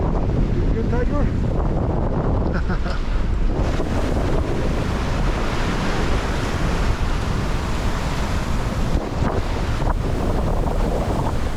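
Ocean waves surge and wind roars around a sailboat surfing swells among ice off Greenland, a loud, continuous rushing wash with gusty wind noise buffeting the microphone.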